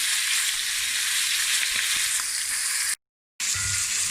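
A T-bone steak frying in a pan with butter, thyme, rosemary and garlic gives off a constant close crackling sizzle, broken by a brief dropout near the end.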